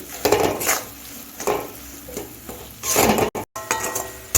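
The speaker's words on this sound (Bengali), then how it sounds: "এখন আমি গ্যাসটা মিডিয়ামে রেখে এটা রান্না করে নিচ্ছি" Poppy seed paste cooks in a pan over a medium gas flame, with soft sizzling and repeated scraping and clinking of a spoon against the pan in close, irregular strokes.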